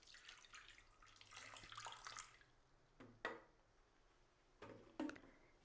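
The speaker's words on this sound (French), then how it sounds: "Versons de l'eau." Water pours into the bowl of a Compact Cook Elite food processor holding small pieces of unsalted butter: a faint, short stream, then a few soft splashes and clicks.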